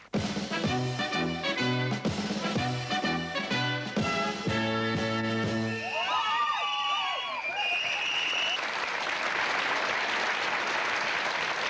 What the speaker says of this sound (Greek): Χειροκροτήστε κυρία.